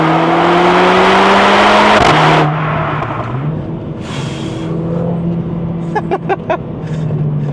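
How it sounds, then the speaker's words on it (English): A high-mileage Mercedes A45 AMG drives under load, its engine droning loudly and climbing in pitch, then it shifts gears, drops lower and pulls again with a quieter, steadier hum and a few sharp ticks. "Car sounds amazing."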